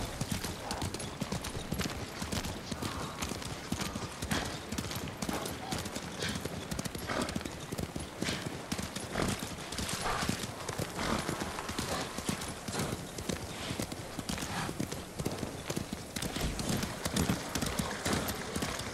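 A horse gallops in the video game Ghost of Tsushima, rapid, continuous hoofbeats pounding close and loud throughout, with a brief whinny and occasional talk over the top.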